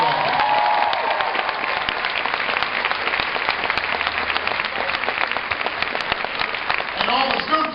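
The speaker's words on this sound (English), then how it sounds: "Please give Diane a huge round of applause." An audience at a high school event applauds for a speaker named Diane, with dense, sustained clapping from a large crowd that keeps an even level throughout.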